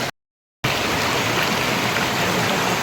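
A waterfall pours after the rains, a steady broadband rush of falling water, loud and close, after a brief silent gap at the start, with no talk.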